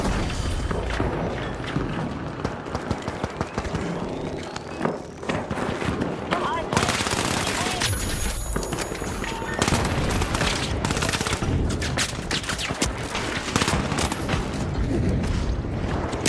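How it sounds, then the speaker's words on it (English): Dense gunfire and explosions fill a match of the shooter The Finals, with rapid bursts, booms and mechanical clatter running nonstop under a player's voice. "Grenade out. Throw grenade there."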